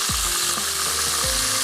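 Fish sizzles and crackles steadily in a hot frying pan, a loud, dense, continuous hiss with no talking over it.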